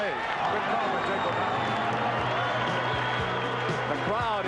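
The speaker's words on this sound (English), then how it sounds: "The crowd in San Diego enjoying the early going." A basketball arena crowd in San Diego cheering and roaring steadily through a 1979-80 NBA game between the Clippers and Lakers, a broad continuous wash of noise with sneaker squeaks and court sounds mixed in.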